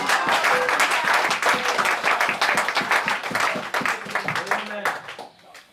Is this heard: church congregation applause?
yes